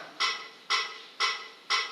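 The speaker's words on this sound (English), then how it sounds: "that's the sound of the metronome." A keyboard's built-in metronome ticks four times in an even beat, each click crisp and close, about half a second apart, with nothing else playing.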